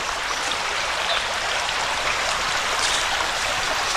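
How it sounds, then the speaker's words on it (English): Creek water flows at Canoe Creek State Park. A steady, broad rushing and trickling comes from nearby and continues without break, with no voices over it. "The sounds of the creek."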